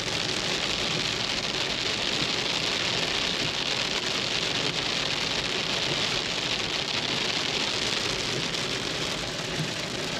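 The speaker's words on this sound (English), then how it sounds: "super loud rain and hail combo and pretty windy" A hailstorm in near-freezing cold: loud, steady rain and hail beat hard on nearby surfaces and roar constantly under gusting wind, with no voices.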